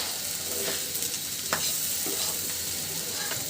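Boiled lentils frying in hot oil give a continuous bright sizzle, broken by a few scraping stirs and soft pops, close up with no talking.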